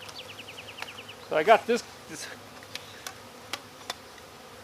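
Honeybees buzzing around an open backyard homestead hive, a steady close insect hum with a few sharp clicks and brief handling noises, while someone speaks briefly.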